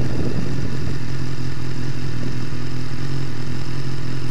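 A 2014 BMW S1000R motorcycle pulls hard in second gear, its engine a loud, close, steady roar with a rough, buzzing drone that holds through the whole stretch, and no one talks.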